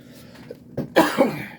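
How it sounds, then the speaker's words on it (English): A man coughs, opening with a small throat noise and then breaking into two harsh, close coughs, loud and alone in a quiet room. "Every time I start recording, I get to coughing."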